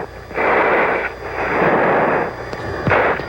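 A missile strikes an enemy jet during an F-14 Tomcat air-combat engagement: two long, roaring blasts of broadband rumble follow one another, then a sharper burst near the end, with no voices.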